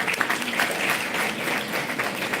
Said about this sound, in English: Can you please have a round of applause?